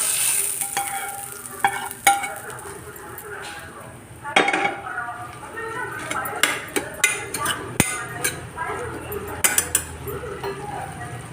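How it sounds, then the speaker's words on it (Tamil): Tomatoes sauté in a pan for a chickpea kadala curry, a low continuous sizzle broken by frequent metallic clanks and scrapes of a spoon against the pan, close and fairly loud. "கொஞ்சம் இது நல்லா நல்ல மசிய வதங்கட்டும் தக்காளி இது பாருங்கள் நல்லா வதங்கிடுச்சு"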